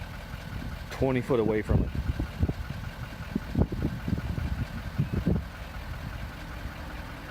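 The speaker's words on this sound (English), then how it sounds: "here's the idle sound of the Super Duty" A 2019 Ford F-450 Super Duty pickup idling from about twenty feet away, a low steady diesel rumble under someone talking over it for most of the stretch.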